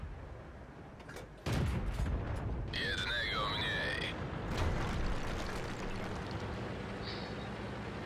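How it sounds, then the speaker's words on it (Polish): A tank cannon fires in World of Tanks gameplay, a sudden loud boom that gives way to rumbling engine and battle noise, with someone talking over it. "Jest drugi strzał."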